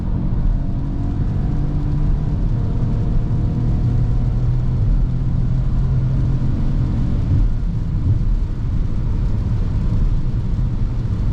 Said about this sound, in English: Let's go back to sport mode and do a little acceleration.